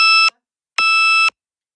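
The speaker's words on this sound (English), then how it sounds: "it's going to scare me for a while with this little beep going off" A small electronic beeper sounds two sharp, steady tones, the second slightly longer, loud and close with silence between them.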